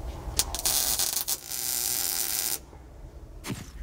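Welding on the roll cage tubing of a '74 Pro Street Dodge Dart gives off a close, steady electric buzz and crackle. It runs in short bursts, then in one longer stretch that cuts off abruptly.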